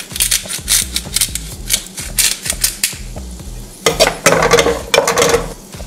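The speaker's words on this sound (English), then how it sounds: "While you saute this, you definitely want to add some salt, just so we can caramelize the onions faster," Onions sauteing in a pan with salt for a chicken pot pie, with a soft steady sizzle under rhythmic scraping stirs of a utensil, loud and close, with brief clinks and no talk.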